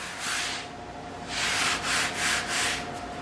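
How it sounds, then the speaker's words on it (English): Bondo body filler on a 1946 Ford is sanded by hand in close, steady strokes, a raspy scraping that swells and fades in a rhythmic back-and-forth. "Need to sand that more better right there"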